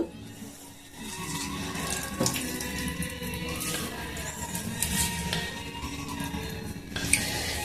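Grated cauliflower for paratha is squeezed by hand so water drips and splashes out. The wet, trickling sound is close and continuous for about seven seconds with no talking.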